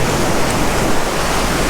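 Ocean water rushing in over big rocks on a quiet beach on Oahu's leeward west side, a loud, steady broadband wash of surf with no voices.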